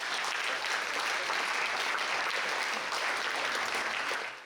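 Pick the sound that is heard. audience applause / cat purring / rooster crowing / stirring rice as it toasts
audience applause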